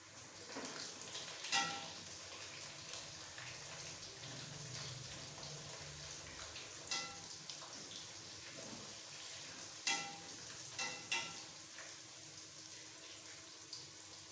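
Egg chips fry in hot oil with a steady, soft sizzle, broken by a few sharp clinks of a utensil stirring against the pan around two, seven, ten and eleven seconds.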